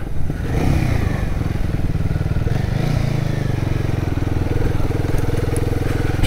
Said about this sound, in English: She begs to be ridden hard, this bike.